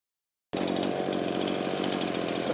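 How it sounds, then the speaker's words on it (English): A chainsaw starts abruptly after a moment of silence and keeps running at a steady, fairly quiet idle-to-mid drone while clearing vines during storm preparation. "I'm leaving the chainsaw running because I rather imagine there are going to be some caught up vines"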